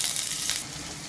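Chopped onion dropped into hot oil in a kadai sizzles and hisses steadily at close range, a bright continuous crackle with no talking over it.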